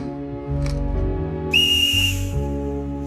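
A pressure cooker cooking mutton whistles, shrieking loud and steady for about a second, over the low hum and rumble of a kitchen.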